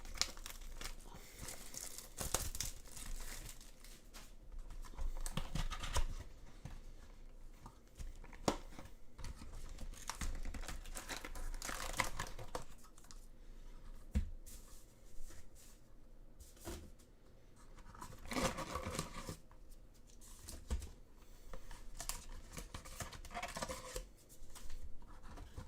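Cardboard seals on a 2020 AFL Footy Stars trading card box are cut and the box opened, giving a long run of close crinkling, rustling and tearing with sharp snips and handling knocks, no talking.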